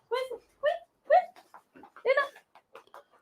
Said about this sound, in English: a puppy dog trying to get in the workshop